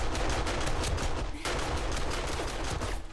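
Automated turret guns fire in the game 7 Days to Die. The rapid gunfire is dense and unbroken, with loud, sharp bursts that run together into a continuous barrage for several seconds.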